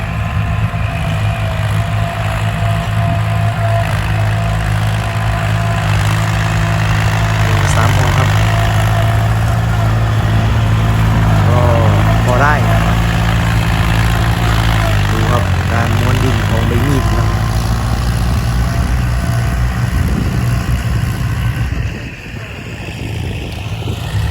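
A Kubota farm tractor idles in a rice field being levelled and banked, giving a loud, continuous low engine drone that holds steady, with someone talking over it at times and the level easing near the end.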